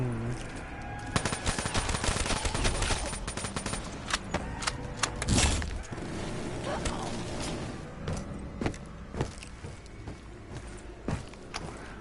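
Call of Duty Black Ops 3 Zombies gameplay fills with rapid bursts of gunfire and sharp repeated shots over a busy game soundscape, with scattered impacts and clatter throughout.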